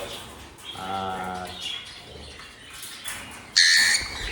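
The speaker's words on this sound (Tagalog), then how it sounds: "So ito na sir yung ibon mo." A pigeon being handed over to its new owner gives a short cooing call, followed by rustling and a sharper, louder chirp near the end, all close by in a quiet outdoor setting.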